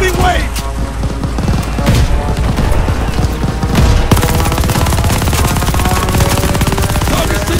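Sustained, dense gunfire with booming impacts runs throughout a Call of Duty Vanguard battle. It is loud, near and continuous, and rapid bursts blend into a constant roar.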